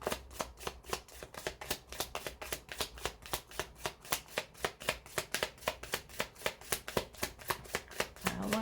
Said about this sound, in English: These decks were shuffled, but they want me to shuffle them.